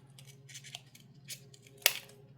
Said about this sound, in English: It might be a little tough because I'm going through a couple of layers here. But then you'll cut from one corner to the center.